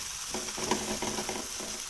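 Chopped onions sizzle steadily in a hot pan while being cooked down for an egg curry, a close, even frying hiss with faint stirring scrapes and no one talking.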